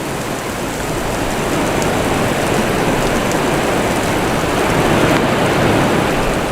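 Heavy monsoon rain pours down steadily in Cherrapunji, Meghalaya, a dense, loud, unbroken roar of water hitting the ground that keeps an even intensity throughout.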